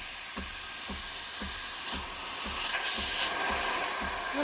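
Steam wand of a Decent DE1PRO espresso machine steaming: a loud, continuous close hiss with a faint regular pulsing knock underneath, steady throughout.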